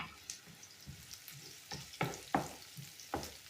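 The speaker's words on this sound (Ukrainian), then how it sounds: "сковорідка нагрілась і висипаю сюди цибульку" Onions sizzle softly in a pan, broken by a few sharp scrapes and clacks as they are stirred.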